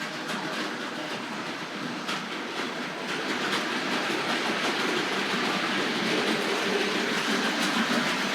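A Hornby Dublo model train runs along its track past a station, giving a steady, continuous rolling rumble with faint clattering that grows slightly louder midway and carries on without a break.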